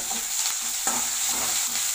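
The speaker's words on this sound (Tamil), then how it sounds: "சேர்த்துட்டு நல்லா லைட்டாக வதக்கிக்கலாம்." Onions and curry leaves sautéing in hot oil, a steady close sizzle with a couple of soft stirring scrapes, no voices.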